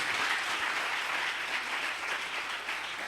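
A church congregation breaks into continuous applause, dense clapping filling the room at an even level from start to finish.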